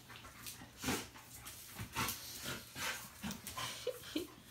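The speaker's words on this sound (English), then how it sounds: "She's panting the most out of all the dogs." A Dogo Argentino pants in quick, breathy bursts during rough play with other dogs, fairly close and steady throughout, with a few higher whimpering notes near the end.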